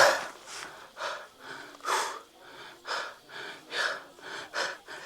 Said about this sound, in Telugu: చాలా ఆయాస్ కూడా వస్తుంది అనమాట